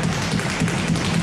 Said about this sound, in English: She's going to do some fast tempo tap dance sounds.